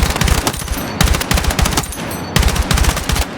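An M4 rifle tap-fires in short, controlled bursts in a Battlefield 6 testing range, three clusters of sharp, loud, close gunshots separated by brief pauses.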